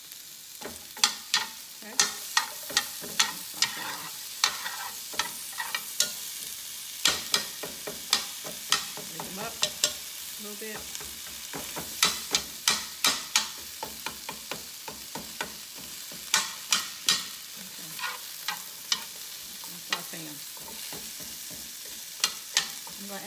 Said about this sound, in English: Put our onions in the skillet. I'm just gonna saute these.